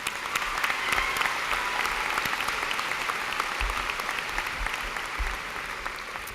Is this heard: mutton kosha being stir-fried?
no